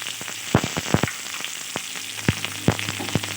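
Dry chilli, ginger and cumin paste sizzles in hot oil with cauliflower and rice, a close, continuous frying hiss broken by sharp, irregular clinks and scrapes of stirring.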